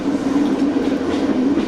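A Pullman charter train at Whitehaven station, heard as a steady, loud rail rumble with a constant low drone throughout and no pauses, with no talk over it.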